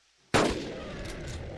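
A single sharp gunshot in Carnivores: Dinosaur Hunter Reborn strikes a dinosaur, bursting in suddenly after near silence and trailing off into a sustained rumbling, ringing tail.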